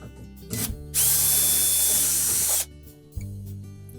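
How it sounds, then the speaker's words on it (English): Power drill backing out screws from the outer panel of a Whirlpool dishwasher, a short close burst of high motor whine lasting under two seconds, bracketed by softer handling clunks. "we're going to remove the screws that secure the outer panel to the inner panel"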